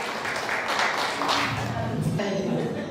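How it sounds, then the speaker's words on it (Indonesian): An audience claps for Ibu Veronica at a church gathering, a steady wash of applause running for a few seconds while a voice speaks over it. "Tepuk tangan untuk Bu Anu."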